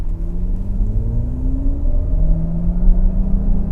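A steady synthetic drone hums over low engine rumble, its tones slowly gliding upward as the car drives, with no talking.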